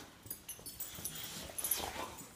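Dogs whimper and yip softly in short, uneven bursts over a couple of seconds, close by with some faint background rustle.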